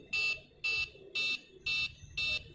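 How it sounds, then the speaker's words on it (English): An Arduino smoke-detector buzzer, triggered by an MQ-series gas sensor, sounds in five evenly spaced, high-pitched beeps, loud and close, with short silences between. "buzzer will start producing sound"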